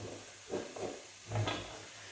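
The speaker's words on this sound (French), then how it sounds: "Il faut faire toujours attention que ça ne colle pas. Donc toujours bien mélanger." Finely chopped onions are stirred in a pot for Belgian carbonades, a spoon scraping and shuffling in a few soft strokes over a faint steady sizzle.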